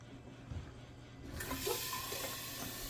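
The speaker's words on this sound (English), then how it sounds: "Okay, so then we add 2 gallons of water." Plain water poured from a half-gallon jug, starting faint and then gushing into a steady, splashing flow for the last half, close and moderately loud, with no talking.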